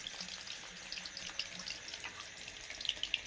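Running tap water pours steadily into a sink as hands are washed, a close, continuous splashing hiss with small irregular spatters and no talking.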